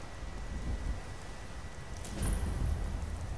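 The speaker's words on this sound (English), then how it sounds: "This rain sucks. It feels like actual rain." Steady rain hisses in the video game Skyrim, with a low rolling rumble of thunder swelling near the end, soft and continuous with no talking.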